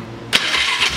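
A Polaris Sportsman 500 ATV engine, running without its airbox, catches abruptly after a short quiet moment and settles into a loud, close, rumbling idle.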